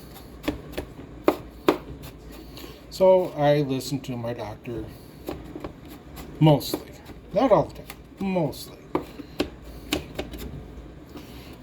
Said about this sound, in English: I am using my grilling chopping knife.